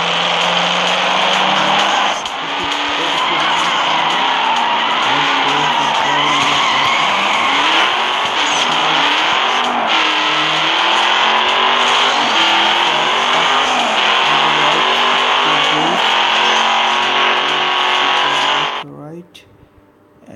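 Racing and drifting in the mobile game Need for Speed Most Wanted on Android: a loud, continuous engine roar with shifting revs and long tire skids runs for about nineteen seconds, then cuts off abruptly near the end.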